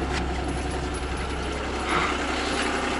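A Komatsu PC30-1 mini excavator engine runs with steady, rough diesel droning, rising slightly in a brief rev partway through, close and continuous.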